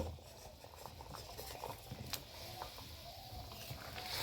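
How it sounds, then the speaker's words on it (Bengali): Egg curry gravy simmering in a pot with new potatoes, giving a steady low bubbling and soft popping patter close by, with no talk over it. "গ্রেভি বা ঝোলের কিন্তু ফুট উঠতে শুরু করেছে"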